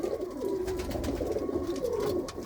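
Racing pigeons coo in a loft, several flying males murmuring continuously in low, rolling calls that overlap close by, with no talk.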